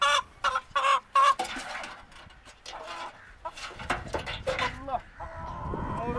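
A chicken clucks in a few loud, close bursts, with other farm animal sounds and a bit of background noise between them and no clear talk.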